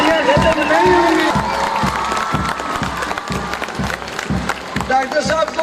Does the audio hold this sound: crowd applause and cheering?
yes